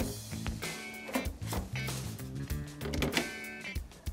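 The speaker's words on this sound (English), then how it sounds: "The mesh top and front slide out easily" Mesh top and front panels of an airflow PC case slide out, giving close clicking, scraping and plastic rattling sounds in quick uneven bursts, with no talking.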